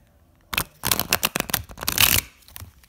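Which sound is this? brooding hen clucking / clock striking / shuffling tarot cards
shuffling tarot cards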